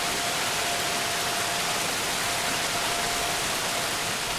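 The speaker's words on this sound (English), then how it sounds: "There's a waterfall." Constant, dense rushing hiss of a waterfall in the video game Obduction, steady and fairly loud, with no talk over it.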